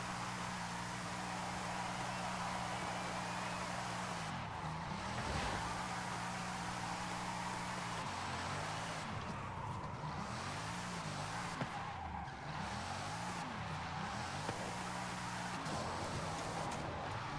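Bugatti Divo drifting through all the gears in Forza Horizon 5: a continuous loud engine drone with revs repeatedly sweeping down and back up across gear changes, steady under a noisy wash, with no talk.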